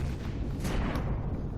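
Drone gunfire in the space-survival game Empyrion, a dense, continuous rumble of distant shots and booms that holds steady through the moment with no talk over it.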